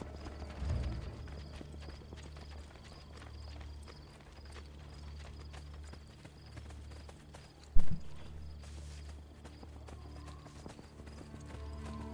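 Horse hooves clopping on pavement in Assassin's Creed 2, a steady walking rhythm under game ambience with a louder hoof strike near the end.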